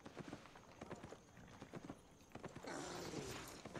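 Horse hooves clip-clop in the online role-playing game Albion Online, a steady rhythmic run of soft hoofbeats before a louder ambient wash of game sound takes over.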